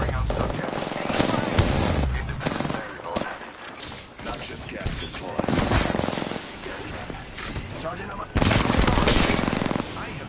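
Rapid automatic gunfire in the video game Apex Legends rattles in repeated loud bursts with short pauses between volleys, close and punchy, with a voice heard over the shooting.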